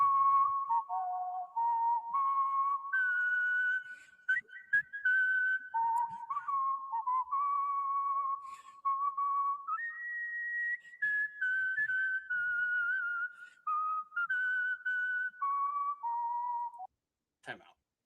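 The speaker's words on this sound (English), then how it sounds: "A guy whistles the national anthem." A man whistles the Star-Spangled Banner solo, a clear, close melody of sustained notes rising and falling through the whole anthem phrase, with brief breaths between lines and no other sound.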